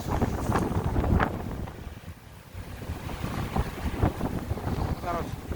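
Strong wind in a Chicago snowstorm in Streeterville buffets the microphone in gusts, with muffled street traffic underneath.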